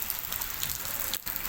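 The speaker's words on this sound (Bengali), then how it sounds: "দীর্ঘক্ষণ ধরে আজ প্রকৃতির আশীর্বাদ হিসাবে আমরা বৃষ্টির দেখা পেয়েছি।" Afternoon rain falls in a steady, soft patter of drops, fairly faint and even throughout the brief moment.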